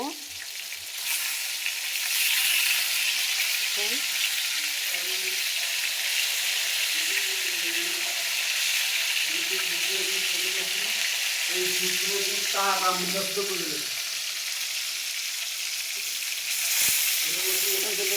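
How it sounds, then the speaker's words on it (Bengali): Kalibaus fish fry in hot oil in a pan, giving a loud, steady sizzle with occasional scraping and stirring sounds as the pieces are turned over. "দেখুন আপুরা আমি মাছ এক ভাজা হয়ে গেছে উল্টে দিলাম"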